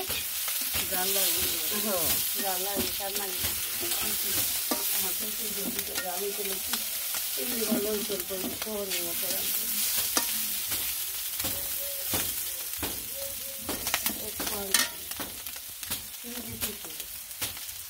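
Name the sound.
small fish frying in a pan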